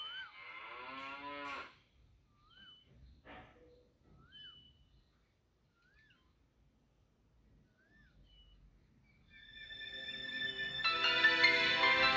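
Cows lowing in a cowshed at a convent: a long, loud moo opens, followed by quieter stretches with faint short bird calls, then a second drawn-out moo swells at the end, heard close.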